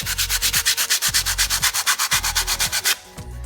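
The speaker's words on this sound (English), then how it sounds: "you want to start sanding all 4 pieces. Try to get all the edges, cleaned up," Sandpaper rubs rhythmically against wooden box pieces in quick, even back-and-forth strokes, loud and close, about twenty rasping passes before the motion stops near the end.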